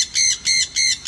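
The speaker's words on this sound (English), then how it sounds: "here is a very naughty parrot." A parrot at a Singapore food court squawks in four loud, harsh, evenly spaced bursts, each lasting about a fifth of a second, close to the microphone.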